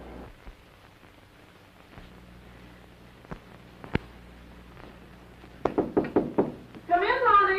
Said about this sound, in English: I knocked on the door and you invited me in.